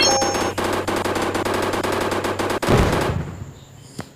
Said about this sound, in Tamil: மிஷின் கன் வந்திருக்கு. சும்மா இதை வச்சு டபா டபா சொல்லலாம்.